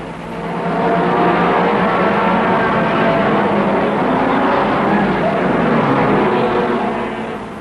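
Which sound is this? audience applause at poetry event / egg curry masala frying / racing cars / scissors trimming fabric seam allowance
racing cars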